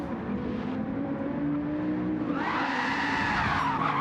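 A race car in a racing video game slides and skids, its engine droning steadily before tires squeal loudly as it drifts through the front straight.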